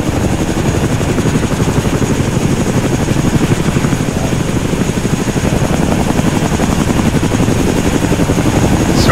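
Helicopter rotor and engine noise in the ARMA 3 military game, a steady loud continuous thrum with rhythmic blade chop filling the whole stretch, no talk.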